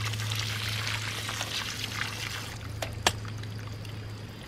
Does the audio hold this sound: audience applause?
no